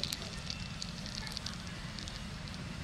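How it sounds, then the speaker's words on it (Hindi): Cumin seeds crackle and sizzle in hot ghee, a dense, steady frying hiss with quick, sharp pops scattered throughout. "जीरा हमारा थोड़ा सा चटक गया है"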